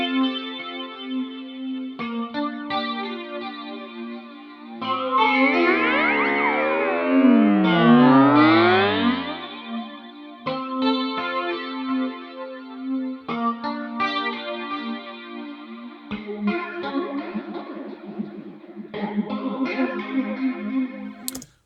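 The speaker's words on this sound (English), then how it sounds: "With a flanger, what we have a chance to do is to feed those copies back in almost as a feedback loop." A synth tone run through a Logic Pro flanger with heavy feedback sweeps in sharp swooping, whooshing pitch arcs, giving a watery, metallic, chorus-like shimmer over a series of sustained notes.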